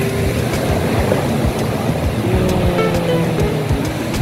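Waves at Padang beach in Indonesia wash in as a steady, loud rushing surf, with a broad wind-like hiss and faint low rumble throughout.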